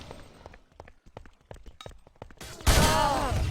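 Gunfire in an online multiplayer video game match during a tournament final, a rapid run of sharp close shots followed by a sudden loud burst of noise, heard without talk.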